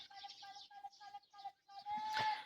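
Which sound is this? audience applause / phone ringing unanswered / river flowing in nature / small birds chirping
small birds chirping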